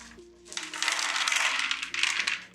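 A handful of gaming dice clatters onto a table, a dense bright rattle lasting a couple of seconds with a brief second spill near the end, close and fairly loud.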